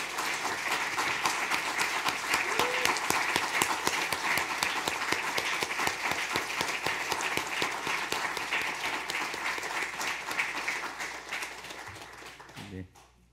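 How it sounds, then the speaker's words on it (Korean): Audience applause at a Korean church gathering, a steady dense wash of clapping from many hands that holds for about twelve seconds before fading out at the end. "큰 박수를 함께 보내는 것으로 마쳤습니다"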